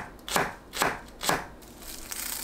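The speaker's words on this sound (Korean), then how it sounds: "파를 둥근 모양으로 얇게 썰어주세요." A knife slices green onions into thin rounds on a cutting board, three crisp, evenly spaced chops followed by softer rapid cutting, close and clear.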